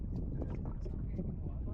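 A small fishing boat motoring slowly while trolling off eastern Hong Kong waters gives a steady, close, low engine rumble mixed with wind buffeting the microphone, with no other distinct events.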